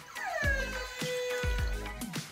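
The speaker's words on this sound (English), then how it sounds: "I swear the smallest dogs are the most aggressive." A small dog yips aggressively up close, giving several sharp, high yelps mixed with whiny, drawn-out cries over a couple of seconds.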